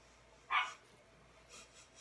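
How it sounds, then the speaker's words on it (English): A single dog bark pops out sharply indoors, followed by a couple of fainter, softer yips or movements, with quiet room tone and no talking. "Sorry, I don't know why my dog is going crazy."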